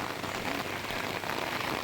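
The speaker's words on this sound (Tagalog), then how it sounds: "Lumakas na yung ulan." Heavy rain pours on a mountaintop at Berjaya Hills near a Japanese tea house, a dense, continuous wash of drops hitting surfaces at an even level with no talking.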